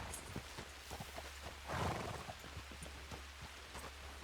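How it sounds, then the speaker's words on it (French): Horse in the Red Dead Redemption video game, with soft clip-clop hoofbeats and rustling throughout, a brief louder snort or whinny near the middle, heard alone without talk. "Il y en a un qui l'aide à monter sur son cheval."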